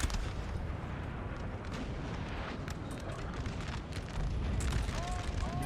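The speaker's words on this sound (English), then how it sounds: "But he's firing cannonballs anyway." Cannon fire in a Napoleon Total War battle rumbles as a continuous, heavy roar of artillery and booms. A few sharp pops and some mixed battlefield noise cut through it, steady and loud throughout.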